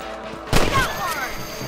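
A single loud rifle shot at rabbits in Red Dead Redemption, a close sharp crack followed by a lingering echoing tail over quiet outdoor ambience.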